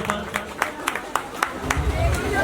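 At a student prize distribution ceremony, scattered claps ring out in a fairly even rhythm for a top-ranking student, sharp individual hand claps over a murmuring crowd and a low rumble.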